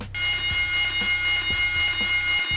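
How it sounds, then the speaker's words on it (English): Fire bell alarm in a brewery ringing loud and close, a continuous harsh metallic clatter with a steady pulsing beat roughly every half second, heard alone. "This is what the fire bell sounds like."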